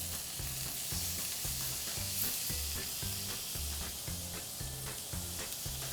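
Butter sizzling in a hot pan around a searing beef tenderloin, a steady broad hiss with faint rhythmic low thumps running underneath throughout.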